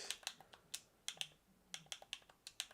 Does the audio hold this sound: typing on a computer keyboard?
yes